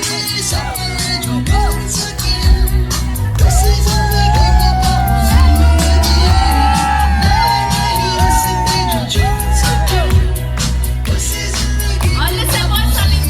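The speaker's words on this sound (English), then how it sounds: "can I hear you all screaming and shouting for them?" Guests at a wedding reception scream, whoop and shout in a loud, sustained crowd roar, dense and continuous over the whole stretch.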